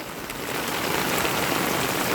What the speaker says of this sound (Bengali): বিরাট বৃষ্টি